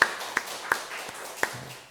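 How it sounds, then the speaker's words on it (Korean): A church congregation at a special prayer service claps for the students, with only a few distinct, separate claps spaced unevenly over under two seconds, moderately faint with no talk over them. "학생들 박수할게요."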